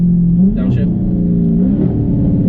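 A Dodge Charger 392 V8 blips its engine on a paddle-shift downshift, giving a short, close rising rev followed by a steady low drone, while people talk in the car over it.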